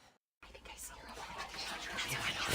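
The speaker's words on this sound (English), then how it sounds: "At the door, she heard whispering." Breathy whispering from inside a house in the video game What Remains of Edith Finch, heard at a door after a brief silence, swelling steadily louder and more hushed-intense over a couple of seconds.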